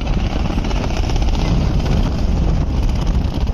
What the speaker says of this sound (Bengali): আর নিচ দিয়ে চলে যাচ্ছে মালবাহী ট্রলার।